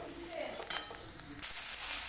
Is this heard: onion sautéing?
yes